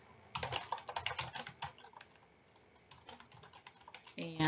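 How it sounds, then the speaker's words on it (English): Rapid bursts of clicking keystrokes on a computer keyboard while text is typed into presentation slides, then a pause and a few more keys before a voice. "So I'm just typing away."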